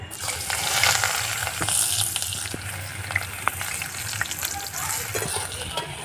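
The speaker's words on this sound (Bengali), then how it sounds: "এক চামচ কালো জিরে ফোড়ন দিয়ে দেবো পেঁয়াজ কুচি দিয়ে দেবো" Black cumin seeds and chopped onion hitting hot oil for a ridge gourd and fish roe fry, a loud, close crackling sizzle with stirring scrapes that settles into a steady hiss.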